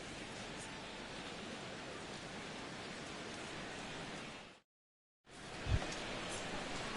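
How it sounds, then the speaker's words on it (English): Steady hiss of rain falling over a baseball stadium, a dense even wash of sound that drops out briefly before returning, with no voices. "the rain continues to fall here"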